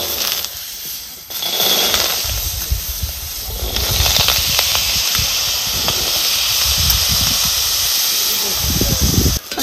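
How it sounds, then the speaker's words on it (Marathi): Washed dried peas roasting in a hot iron pan, a loud continuous hiss and steam with scattered rattling and scraping as they are stirred, a voice talking over it at times. "आता ही आपण धुतलेलं वाटाणं आहेत ना, ही आता चांगलं तरतर असं भाजून घ्यायचे."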